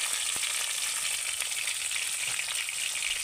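Chopped tomato and ginger paste frying in oil with a bay leaf, dried chili and five-spice seeds, giving a steady, bright crackling sizzle with a few soft stirring scrapes, close and without talk.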